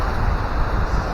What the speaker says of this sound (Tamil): நல்லா தண்ணி போகுதுங்க ஃபால்ஸ்ல.